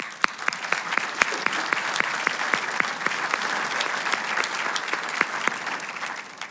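Applause at a graduation ceremony for a Palm Beach County class: a moderate crowd claps steadily for several seconds, with individual sharp claps standing out near and clear.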